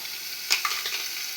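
Soybean masala frying in a pan with salt just added, a soft steady sizzle broken by a couple of brief stirring scrapes, close and fairly quiet.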